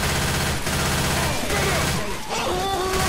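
Sustained, loud rapid-fire machine gun bursts in the Left 4 Dead 2 co-op zombie shooter, dense and continuous with overlapping game effects throughout.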